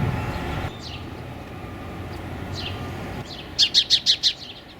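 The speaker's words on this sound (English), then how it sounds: "Some of these little migrating birds," Small migrating birds outdoors near a goldenrod patch, giving a few thin, scattered chirps followed by a quick series of five sharp tweets, over soft background noise.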